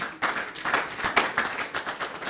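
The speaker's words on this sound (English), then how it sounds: "Please, a round of applause for them." An audience at a media company's anniversary showcase claps for staff members standing in front of them, a moderately distant patter of applause with uneven bursts and no clear voices.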